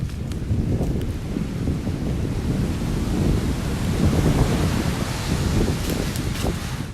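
Ocean waves on a Thai beach roar and wash continuously, with sets of surf breaking under steady wind noise on the microphone; a broad, loud, unbroken rush with no voices.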